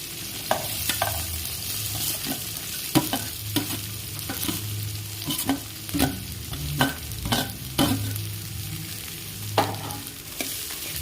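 Chopped large onions and green chillies sautéing in a pan, a constant soft sizzle broken by repeated scraping strokes of a spoon stirring at an uneven rhythm, close up with no talking.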